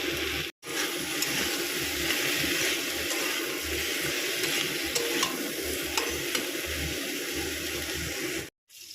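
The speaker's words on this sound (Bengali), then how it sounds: "এবারে আমি ক্যাপসিকামটা দিয়ে আর একটু ভেজে নেবো" Onion and capsicum fry in a pan with a steady, close sizzle and scraping stirs throughout, briefly cut off near the start and end.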